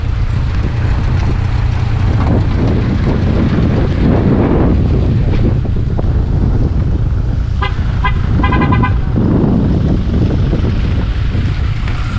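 Heavy traffic crossing a bridge in Laurel, Batangas: a constant loud roar of many vehicles with strong wind buffeting the microphone and a few horn toots near the end.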